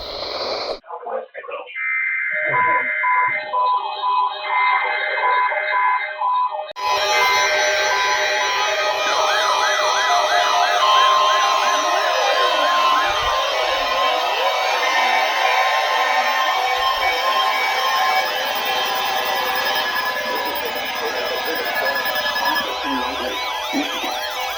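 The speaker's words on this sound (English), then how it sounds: "The preceding signal was a test of the public warning alarm system for all hazards radio stations" An Emergency Alert System public warning test signal plays over radio. Steady attention tones begin it, then a loud, continuous warbling, sweeping alarm fills the rest, with no talk.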